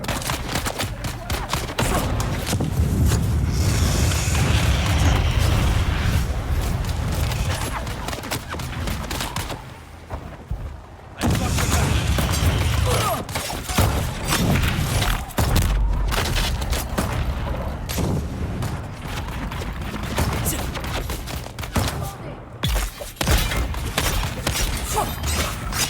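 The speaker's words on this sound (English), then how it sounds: "Throwing grenade." A grenade is thrown and explodes amid gunfire in the video game Dune Awakening, with loud sustained booms and rattling fusillade filling the scene and brief lulls between bursts.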